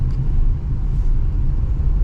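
Steady low road rumble from a car cruising along Hyderabad's Outer Ring Road, a continuous engine and tyre drone heard from inside the air-conditioned cabin with no voices.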